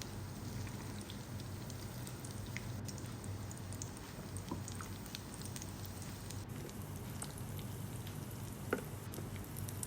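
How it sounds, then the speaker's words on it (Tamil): Cutlets dropped one by one into hot oil, frying with a steady dense sizzle and crackle throughout, close and even, with occasional small pops and no talking. "ஆயில் சூடானதும் ஒன்று ஒன்றா போட்டு ஃப்ரை பண்ணி எடுக்கலாம்"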